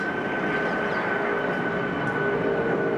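Airplane flying low near Roissy airport, a loud, steady roar of jet engines with a sustained whine, continuous throughout.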